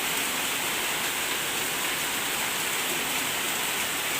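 Heavy rain pouring down outside, a dense, even hiss of water streaming and drumming on surfaces, loud and unbroken, with no voices.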